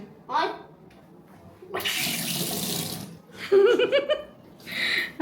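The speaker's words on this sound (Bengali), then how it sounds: "ও হাত ধুয়ে নাও।" Tap water runs into a sink for hand washing at a farmhouse stay in Jharkhand, a steady broadband rush of about a second mid-clip, with brief voices and clattering before and after.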